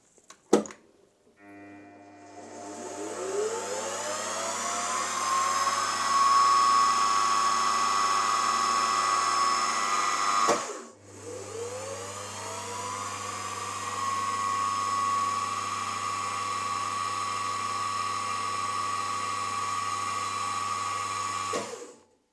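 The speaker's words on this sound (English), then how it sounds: "now I need to centre drill and drill through with a 1/16 of an inch drill bit" A small 1/16-inch drill whines at high pitch as it spins up and centre drills metal, stopping briefly midway, then running steadily again before winding down.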